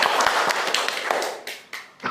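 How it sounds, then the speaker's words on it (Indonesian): Close, loud hand clapping after a shot put technique demonstration in a class, uneven sharp claps from a small group that thin out and trail off toward the end. "Ya, beri tepuk tangan."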